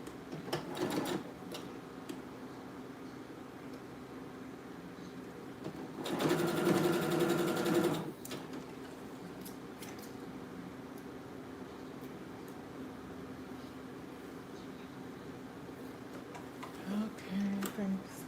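A domestic sewing machine stitches a shirt being remade into a blouse, giving one steady whirring burst of about two seconds midway through an otherwise quiet room with faint handling noises.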